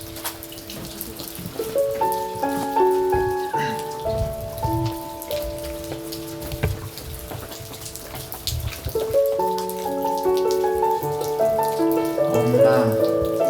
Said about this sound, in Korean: 근데 비가 와서